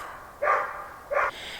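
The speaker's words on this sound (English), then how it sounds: "now we've got dogs going" Two short dog barks, about a second apart, loud and close, with no talking.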